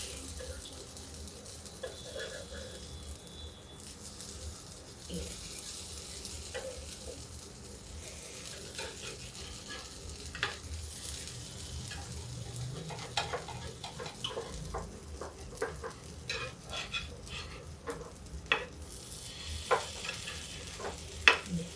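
Pieces of mung dal fry in a pan with a soft, steady sizzle, while a fork flips them with scattered light clicks and taps that grow sharper and more frequent toward the end.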